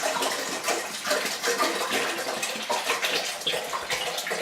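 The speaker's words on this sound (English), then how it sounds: "So we're going to pour this into our giant metal pot." Water gushes steadily into a giant metal pot for homemade wine, a loud, close, continuous splashing rush with no talking over it.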